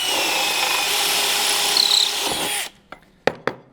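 A Milwaukee 1.5 inch hole saw drills through Evolve Stone: a loud, steady grinding whir that runs for over two seconds, then cuts off and leaves a few sharp knocks and taps.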